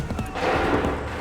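Musket volley gunfire in Assassin's Creed III, a dense rolling burst of shots blending into a loud sustained roar, close and full.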